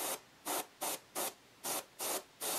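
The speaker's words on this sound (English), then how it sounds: "I got my paint in my airbrush, make sure it's coming out okay" An airbrush sprays paint onto a Darth Talon premium format statue during a paint smudge repair, giving seven short, close hissing bursts in an even on-off rhythm with no talking.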